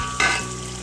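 Sliced potatoes go into hot oil for aloo matar pulao, a sudden loud crackle as they land settling into a steady close sizzle.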